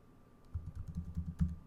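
Quick, soft clicking of keys on a computer keyboard as a MySQL password is entered, a short run of taps at close range with a slightly louder press near the end.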